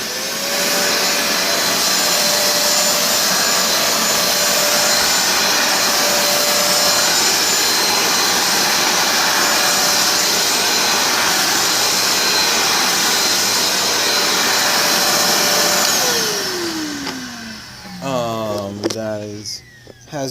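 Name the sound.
Simplicity hand vacuum cleaner running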